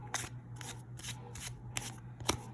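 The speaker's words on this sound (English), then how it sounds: "I'm going to do one of the, kind of basic, quick shuffling things like this." A Yu-Gi-Oh! card deck is shuffled quickly by hand, five crisp riffling bursts in a steady rhythm, close and fairly quiet with no talking.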